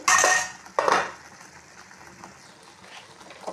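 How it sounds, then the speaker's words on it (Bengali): A lid is lifted off a pot of papaya cooking in a kitchen: two sharp metallic clanks close together, then a quiet low simmer. "তো এখন আমি ঢাকা খুলছি।"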